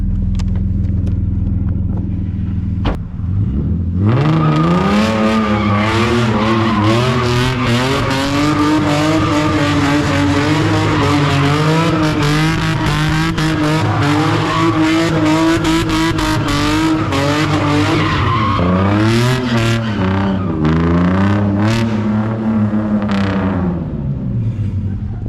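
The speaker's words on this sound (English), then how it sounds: "Hold the donut with the wheel cocked inward." A Nissan 350Z spins continuous donuts on a drift circuit, its engine droning steadily at high revs while the tires squeal and skid without pause, loud and close, with brief dips in pitch as the throttle lifts.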